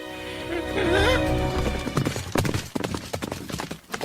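Horse hooves clip-clop in a quick, uneven rhythm while a horse whinnies near the start, with some background voice and sound effects mixed in.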